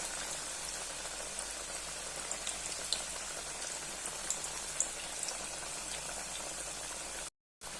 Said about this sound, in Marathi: मंद गॅसवरच तळून घ्यायचं.